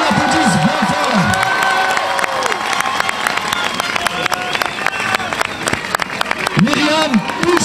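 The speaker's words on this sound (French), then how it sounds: "Qu'on l'applaudisse bien fort." A crowd at a rally against Islamophobia applauds and cheers for a UNEF student union speaker, with loud sustained clapping, shouts and whistles throughout, and voices calling out over the noise.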